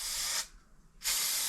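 Mammoth glue adhesive sprays out in two steady hissing bursts from an aerosol can, each lasting under half a second, close and loud with a brief pause between.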